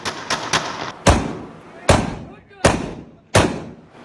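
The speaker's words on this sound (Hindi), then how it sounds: "जदीद असलहे से हवाई फायरिंग करते रहे।" Celebratory gunfire shot into the air from modern weapons in Sukkur, with a burst of quick cracks followed by four loud, spaced, booming reports that each ring out and decay.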